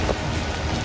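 Typhoon at night in the Philippines, with dense, steady rain and gusting wind roaring evenly and close by for under a second, and no voices.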